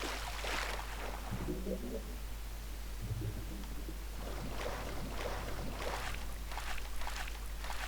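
Swimming through water in the video game Gothic: soft, repeated swishing water strokes over a constant low hum, moderately quiet and with no talking.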